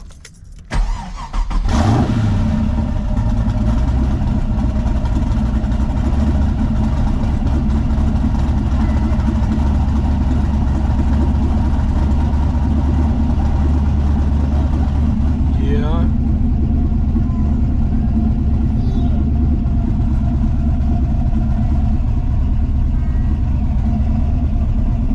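An LS V8 swapped into a twin-turbo Nissan 300ZX fires up with a sharp burst, then settles into a loud, steady, deep idle that runs close by for about twenty-five seconds.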